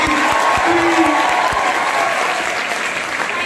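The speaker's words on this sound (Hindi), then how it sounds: "एक बार तो दिल खोल के ताली बजा दो" An audience claps loudly and continuously at a classroom-style event, dense applause with a few sharp individual claps early on and a brief voice tone, fading slightly toward the end.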